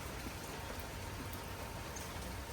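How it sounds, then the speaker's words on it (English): Light drizzle falling outdoors on a damp morning, a steady even hiss of fine drops pattering on surfaces with no voices over it. "We've kind of got a drip-droppy rainy day here this morning."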